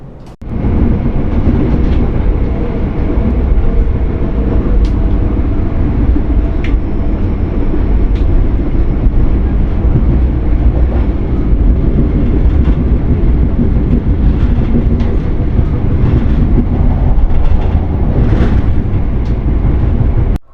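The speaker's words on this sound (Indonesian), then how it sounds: "Kita tunggu ya keberangkatan kereta api Parahyangan di stasiun Jatinegara." The Parahyangan passenger train departs Jatinegara station with a steady, loud rolling rumble and faint wheel clatter on the rails, continuing close by throughout.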